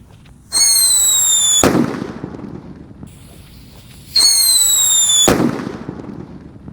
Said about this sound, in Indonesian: Menyalakan banyak sekali mercon dan petasan spesial Ramadan 2026.